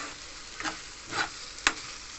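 Okra masala with green chillies sautéing in hot oil, three short stirring scrapes breaking through a soft, steady background sizzle, close and fairly quiet.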